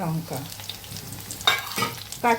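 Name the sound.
bitter greens (beto shak) frying in a pan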